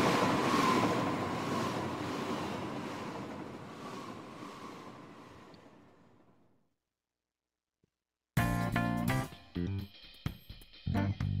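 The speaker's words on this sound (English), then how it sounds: "That's a train." A Persona 5 video game train: a broad rumbling rush that slowly fades to silence, followed by a burst of clattering, mechanical noise.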